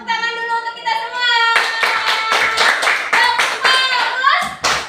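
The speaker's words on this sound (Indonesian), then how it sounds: "tepuk tangan dulu untuk kita semua" A sixth-grade class of children at an elementary school claps together: a rhythmic patter of small hands in a quick pattern, close and fairly loud, following a brief sung or spoken voice at the start.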